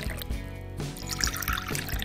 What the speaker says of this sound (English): Pour coffee with milk into a cup.